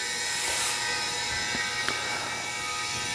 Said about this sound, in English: That noise you hear is the air expansion tank filling with air.